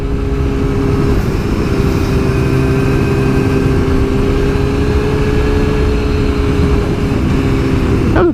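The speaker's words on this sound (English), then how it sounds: "That was a bloody good wheelie" A motorcycle engine held at a steady high drone through a wheelie, loud and close with constant wind rush and a slight pitch drop at the very end.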